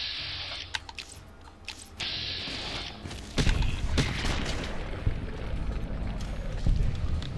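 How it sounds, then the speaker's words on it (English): Explosion from the Two-Step Goodbye ballistic fist in Fallout: New Vegas, a loud booming blast partway through amid combat noise, with earlier sharp clicks and hits. "And as you saw, there was that explosion."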